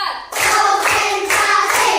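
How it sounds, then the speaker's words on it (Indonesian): A classroom of students claps hands together in a loud, steady rhythm, bursts of many hands striking in repeated groups as an ice-breaking clapping game. "Tepuk 1. Tepuk 2. Tepuk 3. Tepuk 4."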